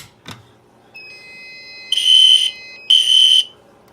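Fire alarm system sounds two loud, shrill electronic blasts about a second apart, preceded by a soft click and a faint high tone.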